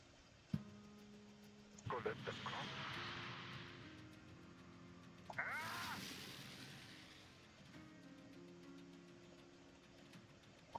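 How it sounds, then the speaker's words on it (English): A bomber aircraft flies over in the War Selection real-time strategy game on PC, its engine drone swelling in two broad passes that rise, hold and fade, with game sound effects and voice traces underneath. "That's the bomber."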